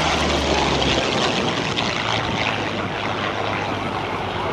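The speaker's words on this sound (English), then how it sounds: "Very different sound of that engine from the one that Bill Leff has on his T6 Texan" A Yak-9 World War II warplane with a liquid-cooled engine flying at an airshow, its loud, rough engine roar filling the air steadily and close, without speech.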